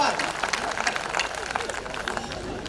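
An audience at a Hindi comic poetry gathering claps, brisk scattered hand claps swelling into a brief burst of applause mixed with crowd voices and talk.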